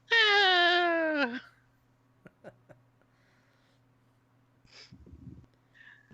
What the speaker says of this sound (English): there's a cat underneath my chair and I'm petting him